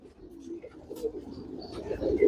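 Close, low cooing from a male homing pigeon rolls on in steady throaty phrases, rising in loudness toward the end, with faint room noise behind.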